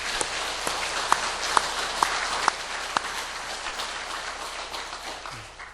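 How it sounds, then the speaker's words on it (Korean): A church congregation at a Korean Sunday service applauds the elders in a steady, dense wash of clapping, with a few louder claps standing out near the front before it gently tapers off. "감사하는 박수, 건강하시라고 합니다."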